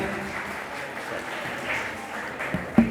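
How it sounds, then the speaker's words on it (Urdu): Audience at a Quaid Day event at DEA Bahawalpur clapping to welcome a speaker, steady light applause filling the room, ending with a sharp close knock near the finish. "آپ کی تالیوں کی گونج میں تالیاں رکنی نہیں چاہیے"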